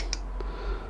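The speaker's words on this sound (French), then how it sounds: "Et cette vis, il faut la serrer au couple de 26 Nm." A torque wrench tightening a screw to 26 Nm on a Yamaha Virago 125 motorcycle gives a few light, close clicks in quick succession, with no talking.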